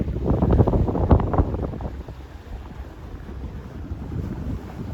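A sailboat moving through shallow channel water off Russell Island on the route from Brisbane to the Gold Coast, with strong wind buffeting the microphone and a steady wash of water, loud and gusty at first, then settling.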